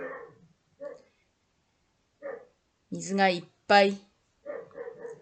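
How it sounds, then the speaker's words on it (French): An unhappy dog barks a few times at a distance, two louder yelps standing out, between stretches of calm talking indoors. "il y a mon chien qui n'est pas content"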